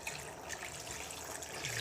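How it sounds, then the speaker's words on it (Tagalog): Water runs steadily into a cooking pot of lechon paksiw being prepared with pork, a quiet continuous pouring splash close by with no talk over it. "Tapos, lagyan natin ng tubig."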